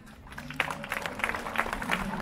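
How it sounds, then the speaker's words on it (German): Applause at a Swiss cattle show award ceremony as young heifers are sent off: a crowd claps in a steady patter that builds slightly, moderately distant and fairly soft. "Darum bitte gerne einen kräftigen Applaus."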